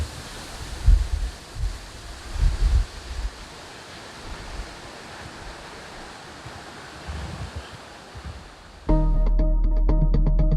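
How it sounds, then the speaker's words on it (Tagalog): Strong wind from Typhoon Uwan gusting outdoors, with surging rumbling buffets into the microphone for most of the stretch, then a steady mechanical hum takes over near the end. "Pero malakas pa rin yung hangin"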